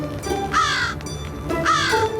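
A person imitates a crow, letting out two drawn-out, nasal caws with a pause between them, loud and close against a faint background hum.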